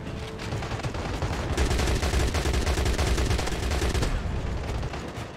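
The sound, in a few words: gunfire from the video game Crossfire X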